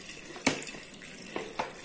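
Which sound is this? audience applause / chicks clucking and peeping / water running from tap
water running from tap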